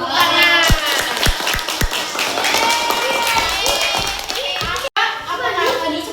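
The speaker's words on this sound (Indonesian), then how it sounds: "Tepuk tangan." Students clap in a classroom after a short presentation; a few sharp separate claps give way to scattered clapping under loud children's and teacher's voices, with a brief dropout near the end.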